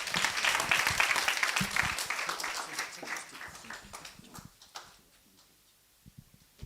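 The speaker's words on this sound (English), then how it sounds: "Can you please give him a round of applause?" An audience at a cybersecurity indaba in South Africa breaks into dense applause that slowly thins into scattered claps and trails off into near silence.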